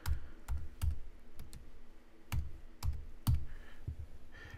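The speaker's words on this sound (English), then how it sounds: "So I'm going to have to type and find it" Someone types on a computer keyboard, with scattered close key clicks and a few sharper taps at an uneven rhythm over a quiet background.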